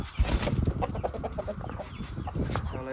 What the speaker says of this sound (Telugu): దాని ఫిమేల్, దాని పెట్ట ఇది.